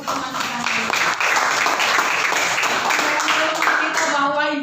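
Students applaud a classmate in a classroom. The clapping is loud and close, and chatter and voices mix in throughout.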